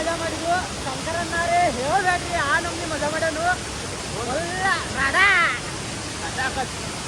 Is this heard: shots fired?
no